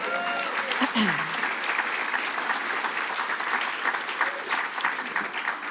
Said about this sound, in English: let's give Kurt a round of applause